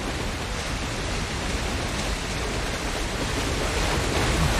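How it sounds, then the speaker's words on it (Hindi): Water gushes out in the video game Uncharted: The Lost Legacy, a steady dense roaring rush like a torrent, loud and unbroken for nearly five seconds with no talking. "पानी निकल रहा है यहाँ से।"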